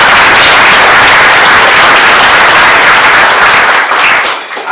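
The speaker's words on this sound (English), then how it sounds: "I think they deserve a round of applause" A large crowd at a Cleveland organization's annual meeting applauds volunteers and board members, loud, dense clapping close to the microphone that stays intense and then tapers off at the end.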